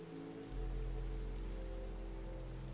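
Steady video-game rain hisses in an even wash, with a low rumble joining after the first half second and holding constant.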